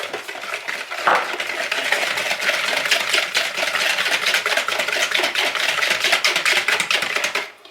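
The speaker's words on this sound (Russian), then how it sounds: "Венчиком немного взбиваем." A hand whisk beats egg into coconut cake batter in a bowl, producing rapid continuous clinking and tapping strokes, close and fairly loud, steady for several seconds before stopping.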